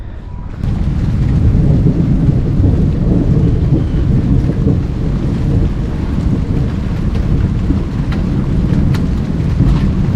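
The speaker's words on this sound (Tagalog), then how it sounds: "bumuhos na yung malakas na ulan at ayan na, umuulan na" Heavy rain pours down steadily over freshly laid sod lawn, a loud continuous roar with deep thunder-like rumble and wind buffeting throughout.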